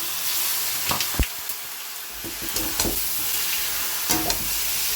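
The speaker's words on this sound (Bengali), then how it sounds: "এখন আমি দিয়ে দেবো পেঁয়াজ রসুন আদা টমেটোর এই পেস্টটা" A paste of onion, garlic, ginger and tomato goes into soybean chunks frying in oil, giving a steady sizzle with intermittent clacks and scrapes of stirring up close.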